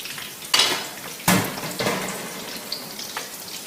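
Eggplant slices fry in a pan with a low background sizzle, broken by a few loud clattering knocks of utensil against pan as the slices are handled.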